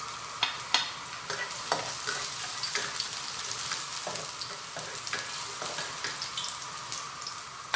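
Garlic sizzles in a hot pan with a bright, hissing crackle, punctuated by occasional clicks of stirring, close and continuous without voices.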